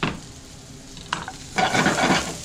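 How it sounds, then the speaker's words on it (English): Potatoes sizzle and crackle in butter in a hot pan, with a brief scrape of stirring before the frying swells louder. "You hear them sizzling."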